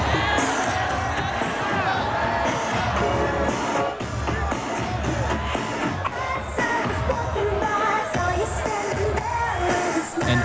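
A record crowd of 85,319 fills the stadium at a 1989 Auburn football game with a constant, dense roar of cheering and crowd noise that never lets up.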